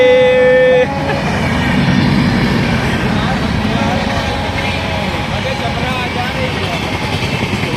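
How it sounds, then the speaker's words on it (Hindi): An Indian Railways train rolls past with a sustained, loud rumbling roar; a brief tonal horn-like note sounds at the very start before the steady clatter carries on. "और ये ट्रेन जाती हुई"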